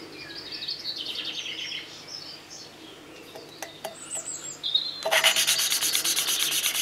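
Valve lapping on a Husqvarna YTH150 engine gives soft, gritty rubbing in short quarter-turn strokes, faint at first and then a louder, steadier scraping near the end.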